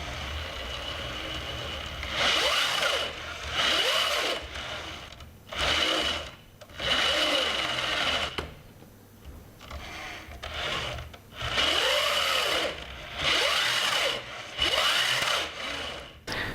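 Electric motors on a Mantis mecanum-wheel robot platform drive in PID mode with repeated whirring bursts of one to two seconds, rising and falling in pitch, separated by short quiet gaps, close by and without talking.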